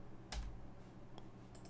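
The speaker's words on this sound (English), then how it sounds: "I'm just pressing enter and hoping for the best." A single key press on a computer keyboard while working in 3ds Max with V-Ray: one quiet, close click followed by a few faint taps in an otherwise still room.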